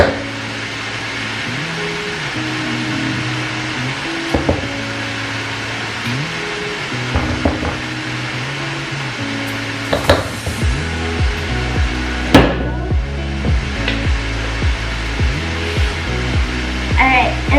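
An electric mixer whirs through cake batter at home, a steady close motor hum that shifts in pitch as the beaters move, with knocks against the bowl and occasional bumps.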